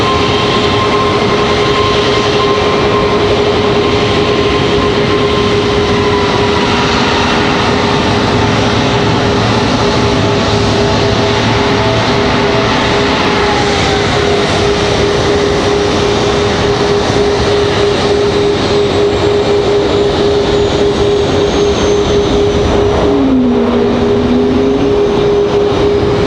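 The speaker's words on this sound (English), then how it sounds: "A220-100." An Airbus A220-100 jet airliner at Raleigh-Durham International Airport rumbles loudly and continuously, a sustained engine roar with a steady whining tone that carries through the whole stretch, then dips and bends in pitch near the end.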